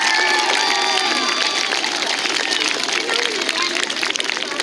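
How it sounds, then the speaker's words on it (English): Students and staff at a school assembly give the second grade a round of applause, with loud, continuous clapping mixed with cheering and chatter from a crowded room. "So one more round of applause."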